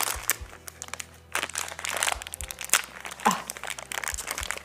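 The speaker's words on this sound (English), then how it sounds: "But it's a tough packaging, man." Tough American candy packaging crinkles and crackles sharply as someone struggles to open it, in irregular bursts of crunching and tearing with short pauses between, close and fairly loud, with no talk.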